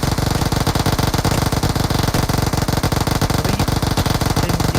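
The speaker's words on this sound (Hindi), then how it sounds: "भाई ने 100 से ज्यादा गोली चला दी, उजी की 100 से ज्यादा गोली" Uzi fire in BGMI, loud and close, a fast unbroken stream of rapid shots with a steady rattling rhythm that carries on through the whole stretch without pause.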